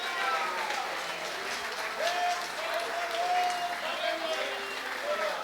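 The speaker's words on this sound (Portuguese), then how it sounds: "Quem pode aplaudir o nome do Senhor?" Congregation applauding steadily during a church sermon, a sustained wash of clapping with some voices mixed through it.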